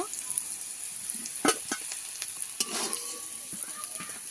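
Potatoes fry in a pan with a soft steady sizzle, punctuated by several scraping stirs and light utensil knocks, close and fairly quiet.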